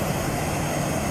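Airplane taxiing away from its parking position toward the runway, a steady, continuous engine drone with broadband rumble, moderately loud and even throughout, no voices.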